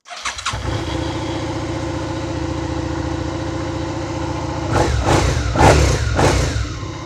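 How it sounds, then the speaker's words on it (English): A Suzuki SV650 motorcycle engine, unstarted for about three weeks, cranks and catches, then settles into a steady, smooth idle with a few sharp revs near the end. "If I just turn the engine on"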